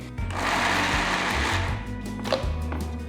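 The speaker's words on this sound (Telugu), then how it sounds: "అలసందలు వడకట్టి మిక్సర్ జార్లోకి వేసుకోవాలి వీటిని నీళ్లు వేయకుండా రుబ్బుకోవాలి" A mixer grinder runs at full power, dry-grinding soaked, drained black-eyed peas without water in its jar, a loud steady motor whine with rough grinding texture and brief surges as the load shifts.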